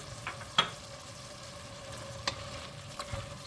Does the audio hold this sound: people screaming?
no